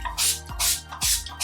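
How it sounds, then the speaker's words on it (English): Three quick spritzes from a rose water spray bottle onto a face, each a short hissing burst, evenly spaced and close up. "So I just spray it a couple times on my face."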